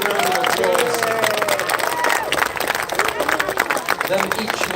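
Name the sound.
crowd applause at a horse show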